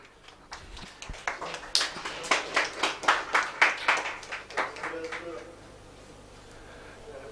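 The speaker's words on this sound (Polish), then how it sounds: "Wielkie brawa." Scattered audience clapping at an MMA weigh-in ceremony, a quick run of distinct claps that builds briefly and fades out after about five seconds, fairly faint and roomy.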